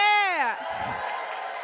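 At an Ignite Seattle event, a voice rises in a long whoop, then a crowd cheers and claps in a busy, roomy wash that carries on to the end.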